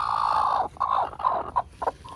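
A broody backyard hen clucks in a coop, giving a long low throaty call followed by a string of shorter broken clucks, close and fairly loud.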